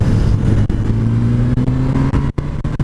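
A Honda CB 1000 R motorcycle engine drones close by with a strong, steady tone on an open road, with no talking.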